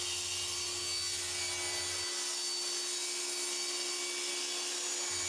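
A saw cuts wooden cabinet panels to width against a stop block on a miter fence, giving a steady hissing, rasping noise with a constant tonal whine, close and continuous.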